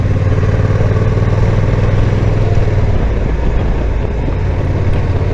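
A 2022 Honda NT1100 DCT motorcycle climbs uphill in fifth gear with its windshield shaking, a loud, steady engine drone and wind rush filling the whole stretch without pause.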